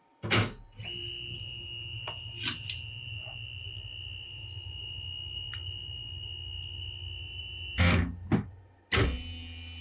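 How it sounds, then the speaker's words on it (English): A Onefinity CNC machine fitted with a PWN spindle homes its axes: a steady high motor whine holds for several seconds, bracketed by sharp clicks and thumps at the start and a few louder knocks near the end. "So this is what happens when going to home the machine."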